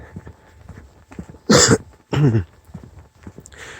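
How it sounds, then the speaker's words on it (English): Two harsh, chesty smoker's coughs burst out close by, separated by a short pause, with quieter breathing and small noises around them. "It's the smoker's cough."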